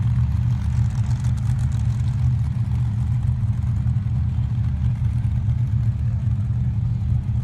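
Blown alcohol drag racing buggy engines start up and idle in the staging lanes at a drag strip. The rumble is loud, continuous and low-pitched, holding steady throughout without any clear revving.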